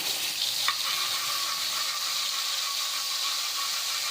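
A steady, bright sizzle of garlic-ginger paste frying in hot ghee, with a brief scrape of a utensil near the start.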